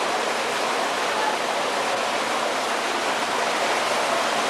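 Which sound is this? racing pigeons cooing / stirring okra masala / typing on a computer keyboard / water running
water running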